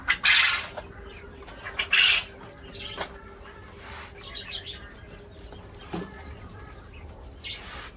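Caged quail at a backyard egg-laying setup call out in loud, close bursts, with quieter chirps and rustling between the calls.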